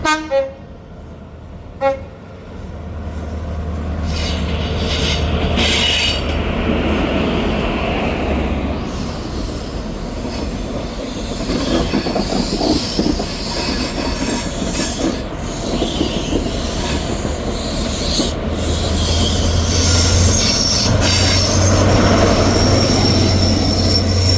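A ScotRail train at Dundee station: a loud, sustained diesel rumble runs throughout, with horn toots near the start and rail and wheel squeal as the train moves off close by.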